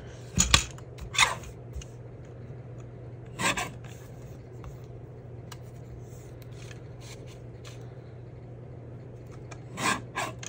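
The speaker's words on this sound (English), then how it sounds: "Let's grab our trimmer." A paper trimmer slices collage strips that include book-page paper, giving a few brief, sharp cutting strokes spaced apart over a quiet background hum.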